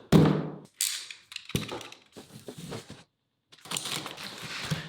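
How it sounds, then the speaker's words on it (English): Unboxing of a Native Instruments Komplete Kontrol S88 Mark II keyboard: close cardboard thumps, scrapes and rustling in irregular bursts with a short pause near the end. "here's a funny unboxing of the Complete Control S88 Mark II keyboard"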